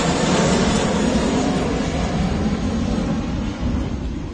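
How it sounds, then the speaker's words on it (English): Aircraft flying low overhead during an outdoor rugby league nines tournament, a loud sustained roaring drone that fills the whole stretch and eases slightly near the end, with no voices over it. "I can't hear myself think when the planes are flying over."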